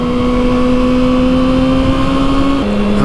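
A Kawasaki motorcycle engine drones loud and close at a steady held throttle, its pitch dropping slightly near the end, with wind noise around it.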